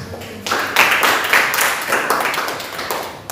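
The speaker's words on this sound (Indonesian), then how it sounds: "Boleh tepuk tangan yang luar biasa." Audience clapping at a church service in Malaysia, a burst of loud, dense hand claps rising after a brief pause and continuing steadily close by.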